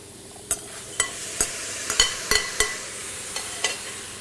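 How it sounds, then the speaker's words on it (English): Beef going back into a stew pot with butternut squash, heard as a series of sharp spoon-against-pot clacks and scrapes, about a dozen close knocks at uneven intervals over a faint background, with no voices. "So now I'll put the beef back in."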